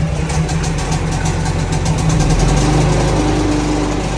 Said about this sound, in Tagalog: Yan na, nagbuhay na yung generator.